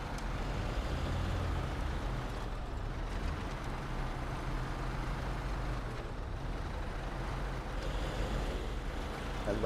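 A Tuz 108 Warthog truck driving through a quarry in the off-road game SnowRunner, its engine a steady low drone with broad rushing noise that holds evenly for nearly ten seconds, fairly quiet and continuous, without talk.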